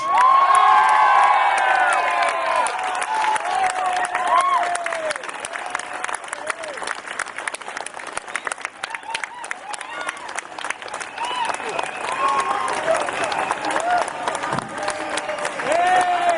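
A large audience at an anti-war rally welcoming Julian Assange bursts into loud, sustained applause with cheers and whoops, the clapping dense and continuous throughout.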